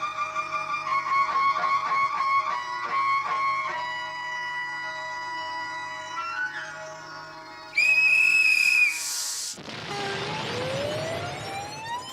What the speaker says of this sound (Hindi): खबरदार आइंदा ऐसे कान में सीटी बजाइए ना टप्पू, तो तेरे कान के नीचे एक बजाऊंगा।